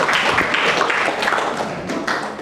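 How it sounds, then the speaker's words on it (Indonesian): Students clapping together in a classroom, a steady dense patter of many hands filling the whole stretch at moderate, close loudness. "Give applause to yourself."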